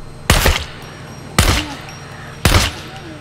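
Three sharp gunshots in the video game SCUM, evenly spaced about a second apart, each a loud crack that trails off quickly.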